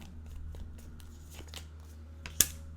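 Tarot cards being shuffled by hand, a soft, faint riffle of quick papery flicks ending in a sharper snap, with no voices.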